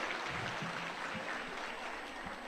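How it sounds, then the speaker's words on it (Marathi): Applause from a large audience welcoming the crowd at a public speech gathering in Nanded, a steady dense wash of clapping with no pauses throughout. "आपल्या सर्वांचं आम्ही टाळ्या मारून जोरदार स्वागत करतो"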